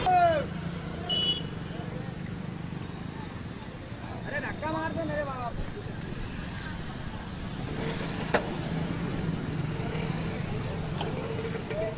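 A car is stuck in potholes on a damaged city road, its engine rumbling amid steady traffic noise, with nearby voices and crowd chatter over the top and occasional horn blasts.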